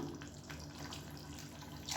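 Water pours in a short, faint stream into a pot of simmering kuzhambu, a steady trickling splash with no voices over it.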